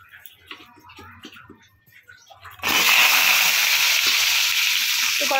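Potatoes drop into hot oil in a wok and set off a loud, steady sizzle that lasts several seconds. Someone talks quietly just before the potatoes go in.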